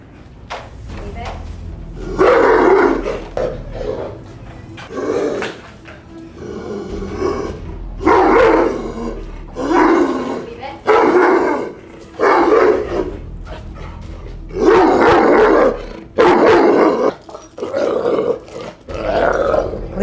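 A reactive, leash-aggressive Doberman and another dog bark and growl in repeated loud bursts with short pauses between them, close by and dominating the scene.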